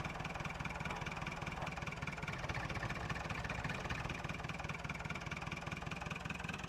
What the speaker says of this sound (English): Oh, we've still got two tractors.